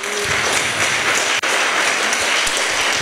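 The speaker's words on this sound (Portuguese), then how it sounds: "Queria que você aplaudisse o Senhor mais uma vez pela minha família." A church congregation applauds in praise, a dense, sustained roar of many hands clapping that fills the room, with one brief dropout midway.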